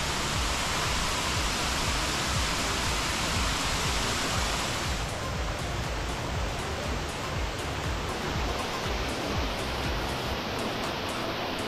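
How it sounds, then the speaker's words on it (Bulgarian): A waterfall in a river gorge in southwest Bulgaria roars steadily and loudly, a dense unbroken rush of falling water that stays close and constant throughout with no talk. "Ето го и водопада."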